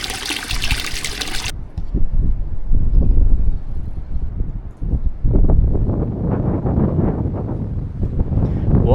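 Strong wind gusts rumble and roar through maple woods in Michigan, buffeting the microphone in uneven surges, with a brief bright splash of noise at the start.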